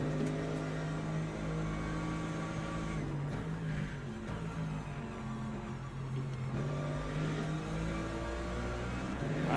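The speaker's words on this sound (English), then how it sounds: "Right, hypercar coming through." A hypercar engine in Le Mans Ultimate holds a steady moderate drone that rises and falls gently as the car comes through. The sound is fairly distant and carries no speech.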